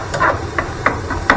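Spatula scraping and chopping browning ground meat in a pan for a bolognese-carbonara pasta sauce, with several sharp clacks spaced across a low sizzling bed, close and fairly loud.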